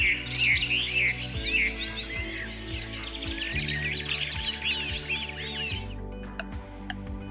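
Birds chirp and trill in quick overlapping calls throughout a sound quiz round, fairly loud and close, over a steady rhythmic low musical backing, with a few sharp ticks near the end.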